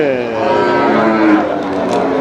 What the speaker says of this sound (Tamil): நாட்டு காளை